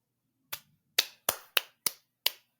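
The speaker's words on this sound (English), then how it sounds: "you can hear that, because I clapped really loud" A single person claps six times, sharp and loud with irregular spacing and brief pauses between the claps, each one ringing out alone in a quiet room.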